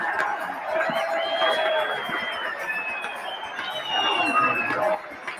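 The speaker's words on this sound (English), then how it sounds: "There you have the cheers of the hundreds and thousands of Barbadians who have come here to witness this momentous occasion" A crowd of hundreds of thousands of Barbadians cheers at a national flag raising, a broad sustained roar of voices heard from a distance, with a commentator speaking over it.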